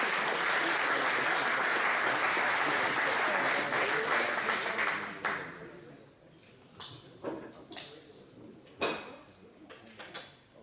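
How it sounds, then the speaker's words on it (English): A summit audience gives a presenter a big round of applause: dense, loud clapping that holds for about five seconds, then thins into a few scattered claps and knocks as the room settles. "Give him one more round of applause here."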